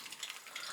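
A sunny side up egg sizzling in a pan on the stove, a steady soft crackling hiss throughout the brief moment, fairly faint and with no talking.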